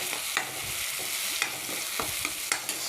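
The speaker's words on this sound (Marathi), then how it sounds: "तेलात जिरे टाकल्यानंतर, हिरवी मिरची टाकल्यानंतर ना आपण त्याच्यामध्ये कांदा टाकून देऊया." Onion sizzles and crackles in hot oil with cumin and green chili, a steady frying hiss broken by several sharp stirring scrapes and clinks of a spoon against the pan.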